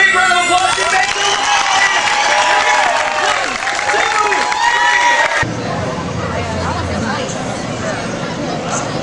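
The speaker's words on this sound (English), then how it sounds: "Let's give her a big round of applause." An audience applauds and cheers loudly for a golden tabby tiger's jump at a Six Flags Great Adventure show, a dense wash of clapping and whoops that carries on throughout, with a sharp cut partway into a slightly different crowd.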